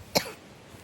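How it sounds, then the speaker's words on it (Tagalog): A single short cough, close and fairly quiet, followed by near silence. "Sorry guys, may ubo kasi ako."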